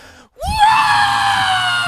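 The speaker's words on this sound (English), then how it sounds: "she is just screaming" A fan screaming as players line up for free throws during a basketball broadcast, one loud sustained shriek that starts abruptly after a brief silence and holds steady.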